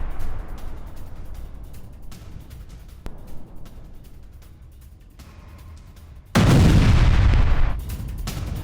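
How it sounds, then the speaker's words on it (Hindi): A Russian fuel depot struck by a French-supplied Hammer bomb erupts in a sudden, loud, booming blast that roars for over a second after a stretch of low, steady rumble. "विस्फोट के बाद रूसी गोदाम कैसे तबाह हुआ ये देखिए आप।"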